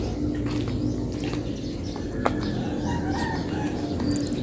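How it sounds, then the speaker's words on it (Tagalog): Chickens cluck and call in a rural yard, scattered short clucks and chirps heard at a moderate distance over a steady background hum, with no one talking. "Mga manok ng makakapatid ko."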